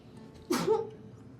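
A single short, sharp sneeze bursts out over a quiet background, brief and fairly close.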